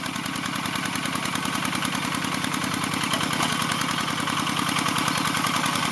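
A walking tractor engine plowing a rice field runs loud and steady throughout, a close, continuous rhythmic chugging with no pauses or voices.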